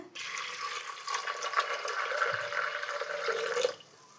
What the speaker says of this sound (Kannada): ನೀರು ಒಯ್ಕೊಳ್ಳೋಣ